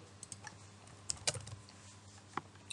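Scattered keystrokes on a computer keyboard as a new password is typed, a few isolated clicks followed by a quick cluster of taps, then a pause and a couple more, close and fairly quiet with no talk.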